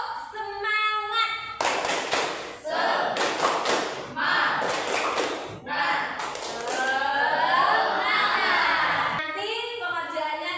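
A primary school class performs a rhythmic spirit clap, heard as several bursts of group clapping in patterned beats alternating with chanting voices, close and fairly loud.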